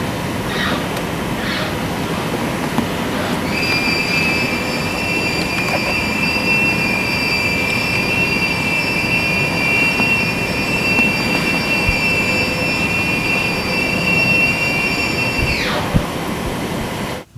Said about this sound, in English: A mechanical hum is all you may hear when you stand below a tower